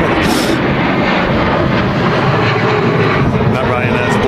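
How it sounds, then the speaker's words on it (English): Ryanair airliner taking off at a very windy Manchester Airport, bound for Dublin: a loud, steady broadband engine roar fills the whole stretch, heavy and continuous from start to end. "That Ryanair's blasting off back to Dublin."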